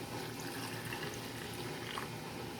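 Hot pickle brine poured into glass jars of cucumbers, a steady, close liquid pour with a continuous hissing splash and slight gurgle, unbroken throughout and without talk.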